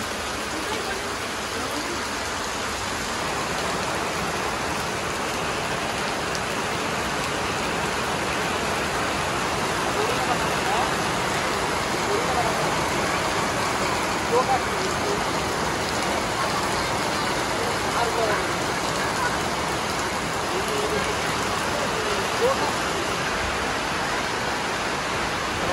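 Steady rain pours down on a Bangladeshi village during a rice-threshing day, a broad, even hiss filling the whole stretch without pause.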